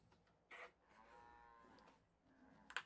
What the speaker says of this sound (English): here comes some tiny cows